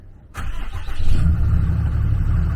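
A truck engine cranks and catches after a quiet moment, then settles into a loud, steady idle close by.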